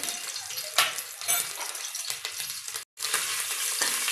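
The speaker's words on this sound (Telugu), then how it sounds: "అల్లం వెల్లుల్లి పేస్ట్ పచ్చివాసన పోయే వరకు వేగించుకోవాలి." Ginger garlic paste frying in hot oil in a pan, a steady close sizzle and crackle with a brief scrape partway through and a short silent break near the end.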